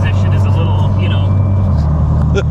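A flood-damaged Maserati that was submerged drives on the road, its low engine and road rumble heard steadily from inside the cabin, loud and continuous, while people talk over it.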